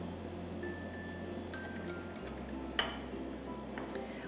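Chocolate ganache being mixed with cream in a bowl, faint clinks and scrapes of a utensil against the bowl, with one sharper knock partway through, all quiet and close with no talk.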